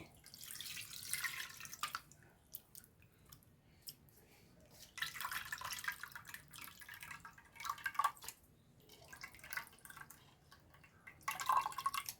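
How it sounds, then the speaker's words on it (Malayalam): Tamarind water splashes into a pan for a coconut-and-ghee rasam, arriving in irregular bursts of pouring and dripping with quieter gaps between. "പുളിവെള്ളം ഒഴിച്ചു കൊടുക്കണ്ടേ"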